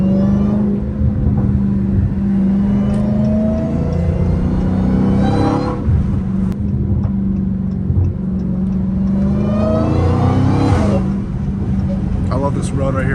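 A Dodge Hellcat Redeye rumbles loudly on a street from inside the car, its engine note rising and falling through several revs and shifts, with people talking over it.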